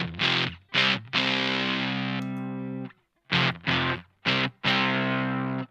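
Electric guitar through an overdrive pedal stacked into a Mad Professor Big Tweedy Drive, a handful of crunchy, compressed chord stabs with one chord left to ring and sustain, close and loud, no voices.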